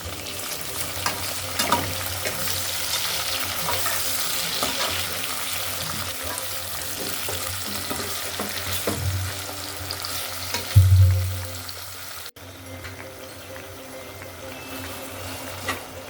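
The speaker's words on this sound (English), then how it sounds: "Now add ginger garlic paste and fry for a minute." Ginger garlic paste fries in a pan for Karachi-style aloo biryani, giving a steady close sizzle with stirring scrapes throughout and a louder hissing burst near the end.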